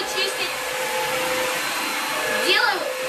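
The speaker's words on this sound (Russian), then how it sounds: "делаю более сильную мощность, и пылесос работает сильнее" An ILIFE W90 cordless upright wet vacuum cleaner runs at a higher power setting, giving a steady close whine with a brief rising tonal sweep near the end and no talk.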